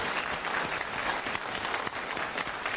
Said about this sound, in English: I would get a round of applause for Graham